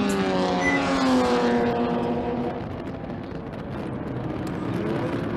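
Heard from on board, a Mustang race car in an endurance race runs at high revs with a loud, sustained engine drone. The pitch climbs and dips as it shifts and works through corners.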